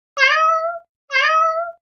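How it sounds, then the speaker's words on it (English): A cat meows twice, clear and close, each meow drawn out and tonal with a short pause between them. "It's a cat."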